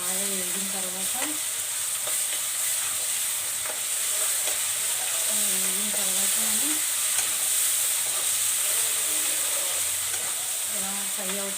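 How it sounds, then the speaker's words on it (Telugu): Ginger garlic paste fries in a pan after onions, a steady, even sizzle and hiss running throughout with faint stirring, while a low tonal hum drifts in and out beneath it. "ఇలా ఫ్రై అవుతుంది."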